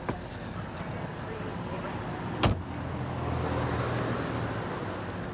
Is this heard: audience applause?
no